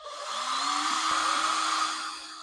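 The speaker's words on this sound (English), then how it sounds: "Then I'm going to pre-drill." A power drill with a blunt bit pre-drills a hole to mount a Roman blind, a sustained whirring motor whine that rises in pitch and runs steadily for a couple of seconds, close and alone.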